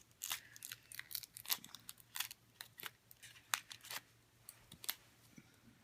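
Quiet, close-up snips of scissors cutting through a crinkly candy wrapper, irregular sharp clicks and rustles with a faint steady hum underneath.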